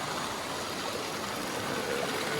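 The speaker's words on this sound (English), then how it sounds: "the water is just swift enough that coming down through that run right there" Swift stream water running through a river run while fly fishing, a steady close hiss of flowing current with no break or voices.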